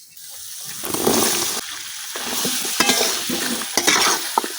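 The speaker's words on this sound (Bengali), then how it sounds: "এখন আলু আর সিমের সাথে মশলাটা আমি খুব ভালোভাবে মিশাইলাম" Potatoes and flat beans stirred into a spice paste as they fry in oil, with steady sizzling and scraping stir strokes throughout, loud and close, no talking.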